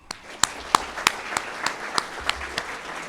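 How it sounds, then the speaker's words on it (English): Sparse, scattered handclaps at a Tallahassee fire academy graduation for the recruit class, about a dozen separate sharp claps spaced roughly every third of a second over a quiet room. "Let's give them a round of applause."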